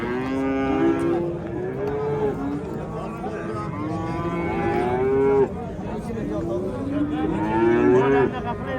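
Several calves moo repeatedly, overlapping drawn-out bawls close by, with a busy crowd murmur of the Tergachi livestock market in the background.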